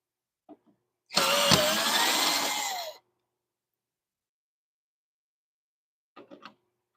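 A power drill backs long screws out of wood on a woodturning lathe setup, a single whirring burst of nearly two seconds, loud and close, framed by faint clicks and handling noises.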